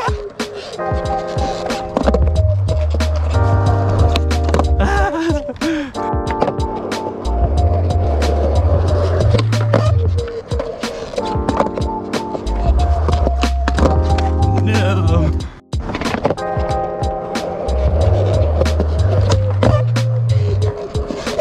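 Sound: skateboard tricks: back 180, fakie big spin, kickflip

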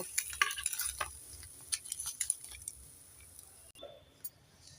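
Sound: katla fish pieces searing in a pan

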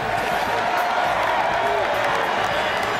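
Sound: crowd cheering at Michigan Stadium

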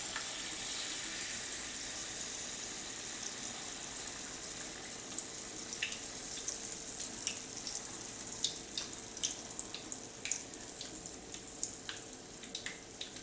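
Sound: Alaskan pollock fish fritters frying in hot fat

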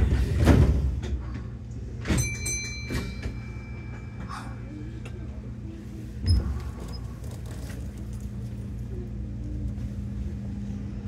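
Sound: train sliding doors closing, Kintetsu 6419 series

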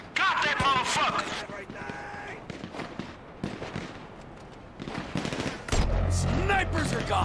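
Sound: gunfire shooting snipers in video game GTA 5

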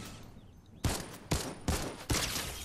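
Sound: gunfire in the video game Fortnite

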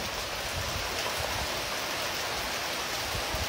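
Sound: steady rain falling in town

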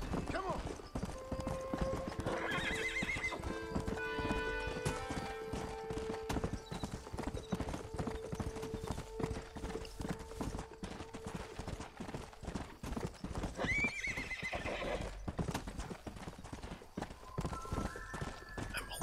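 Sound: horse galloping and neighing in video game

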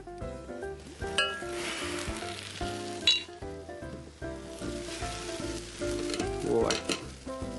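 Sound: food frying in extra virgin olive oil

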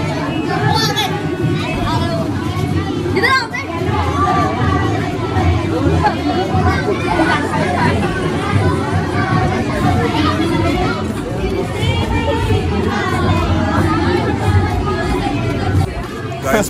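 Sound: crowd at Uttarayani fair in Bageshwar

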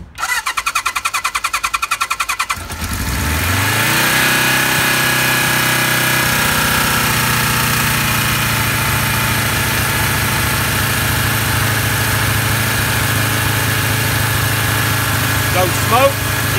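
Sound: Kawasaki Z1 motorcycle engine starting and idling

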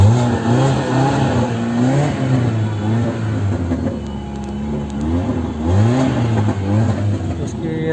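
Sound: Tata Indigo Manza engine revving with no exhaust system

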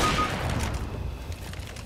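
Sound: gunshot in a first-person shooter video game

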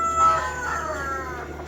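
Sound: ducks and chickens on a rooftop

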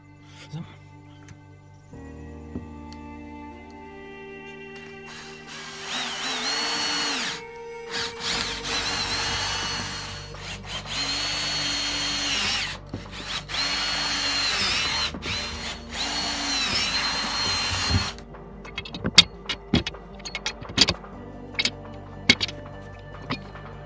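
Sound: drilling holes for DIY motorcycle topcase mount

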